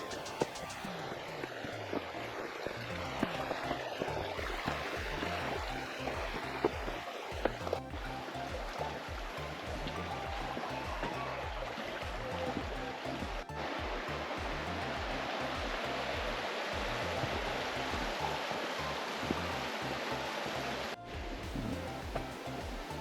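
A steady, broad rush of river water flows over and around stepping stones at Chee Dale in the Peak District, with the river running fairly low. The sound is continuous and close, with no voices.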